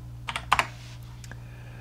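A few quick keystrokes on a computer keyboard type a scene name, close and crisp, over a steady low hum.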